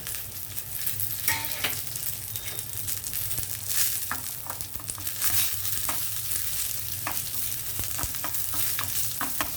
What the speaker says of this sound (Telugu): ఇప్పుడు ఎండుమిర్చి కరివేపాకు వేసాను